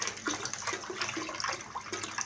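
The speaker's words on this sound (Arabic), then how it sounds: "حط شوية مية كمان" Water poured into a cooking pot of rice, a close gurgling splash running continuously with small bubbling pulses throughout.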